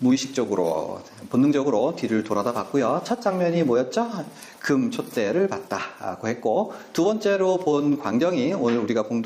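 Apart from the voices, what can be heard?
None of the usual background noises is heard.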